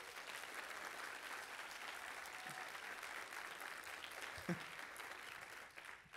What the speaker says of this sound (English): Can we applaud?